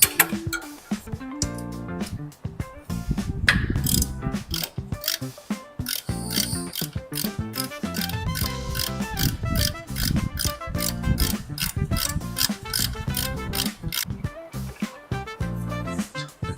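Ratchet wrench tightening a bolt during imported-car maintenance, a long run of sharp, rapid clicking pawl strokes in repeated bursts, close and loud, with metallic mechanical clatter between.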